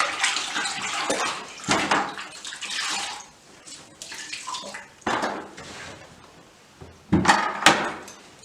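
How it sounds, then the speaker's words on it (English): A cloth being rinsed and wrung in water during wallpaper hanging, with bursts of splashing and dripping that rise and fall, ending in a louder slosh close by. "I'm just going to rinse my cloth."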